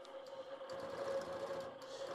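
A computerized quilting machine stitching with the stitch regulator set to 14, giving a steady, fairly quiet mechanical whir with a fine, even rhythm of stitches that continues without a break and has no talking over it.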